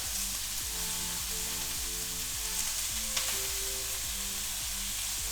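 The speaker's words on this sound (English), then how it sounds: "you want to hear that sizzle when you put it into the pan" Steady, dense sizzling of meat frying in a hot pan, with a continuous crackle and occasional small pops; a low tonal hum repeats underneath, and no voices.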